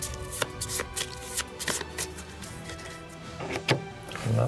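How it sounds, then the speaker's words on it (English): Playing cards shuffled back into a deck during a Sniper Elite board game, a series of soft riffling flutters and light taps, close and fairly quiet, with no talk over it. "Shuffle these back in."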